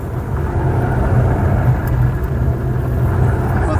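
A Jeep Renegade rolls along during a safety test, its engine and road rumble a steady low drone as it slows on its own, with faint voices in the cabin.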